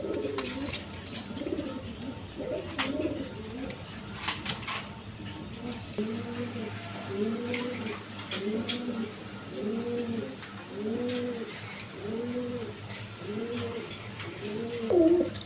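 Pigeons coo in a steady series of soft, rolling calls, repeating rhythmically over a quiet background with faint clicks and rustles.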